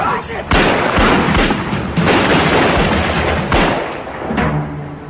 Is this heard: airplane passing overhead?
no